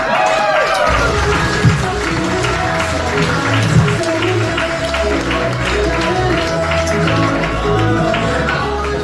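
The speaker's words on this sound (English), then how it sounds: "John Forward, there he goes, everybody, clapping, clapping" A comedy club audience claps steadily after a stand-up set ends, producing a dense, continuous wash of applause with a low musical thump beneath it.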